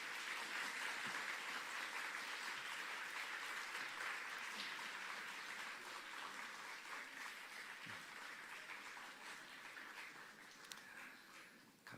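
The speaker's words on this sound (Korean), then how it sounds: "우리 아이들 내려갈 때 다 내려갈 때까지 박수 한번 보내주세요." A church congregation claps for children leaving the front during a service, a sustained, fairly faint round of applause that slowly thins and fades toward the end.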